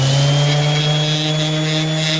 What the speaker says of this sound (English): just put it on my orbital sander like that